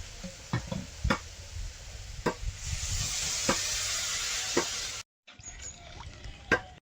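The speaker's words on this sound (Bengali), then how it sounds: "তরকারিতে এবার জল দিয়ে দেবো।" Water hits sizzling potato curry with cumin paste in a hot pan, raising a loud steamy hiss. Sharp utensil clicks and stirring knocks punctuate it before the sound cuts off and quieter stirring follows.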